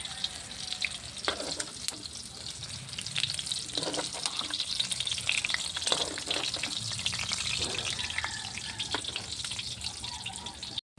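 Chicken intestines, tails and hearts deep-fry in hot oil with a steady, dense sizzle and crackle that carries on close and unbroken, with occasional stirring clatter.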